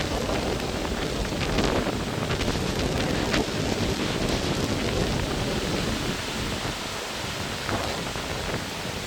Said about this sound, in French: Il y a ces rafales.